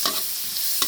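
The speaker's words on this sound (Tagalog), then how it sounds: "Gisa-gisa lang tayo at siyempre unahin natin yung bawang." Garlic sautéing in margarine in a pan, a steady bright sizzle with a few sharp stirring scrapes, close and without talk.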